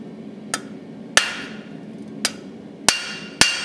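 A blacksmith hammers a hot metal bar held at 45 degrees, shaping it into a leaf: five sharp, ringing strikes at uneven intervals, close and loud, each with a short bright decay.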